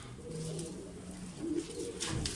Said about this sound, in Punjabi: ਬੱਚਿਆਂ ਨੇ ਕਬੂਤਰਾਂ ਨੂੰ ਦਾਣਾ ਪਾਇਆ ਨੇ